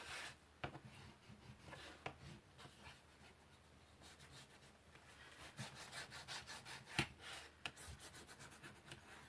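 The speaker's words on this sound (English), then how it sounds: "turning it over and just giving that a good burnish as well" Paper on a handmade book cover being burnished by hand, quiet repeated rubbing and scraping strokes in irregular bursts, close and soft with no talk.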